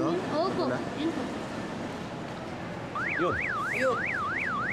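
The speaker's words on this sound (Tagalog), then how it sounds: "Pindutin niyo po dyan yung remote sa susi para umandar yung alarm." A car alarm, set off with the key remote, starts partway through and wails in a fast, regular up-and-down electronic whoop, loud and close, while people speak briefly around it.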